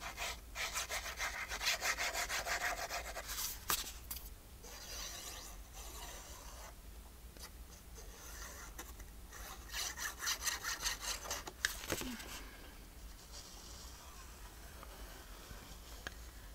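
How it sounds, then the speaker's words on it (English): Folded paper being rubbed down by hand while binding a journal, a close, dry scraping that comes in repeated sweeping strokes with short pauses in between, quiet and without talk. "I'm just kind of rubbing that down so it doesn't drift to the inside."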